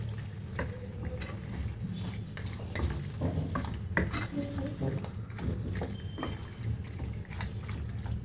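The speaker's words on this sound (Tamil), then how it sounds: "நல்லா கலந்து விடணும்." Pasta with vegetables and salt being stirred in a pan, with repeated scraping and clinking of a utensil against the metal over a steady low background, close and moderately loud throughout.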